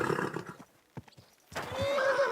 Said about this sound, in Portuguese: meu cavalo tá bravo